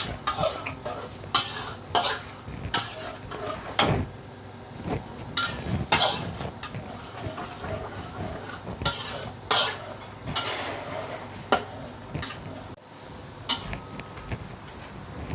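A spatula scrapes and taps against a pan in irregular bursts while rice stir-fries in chicken fat with fried garlic and ginger, faintly sizzling underneath, close and fairly quiet.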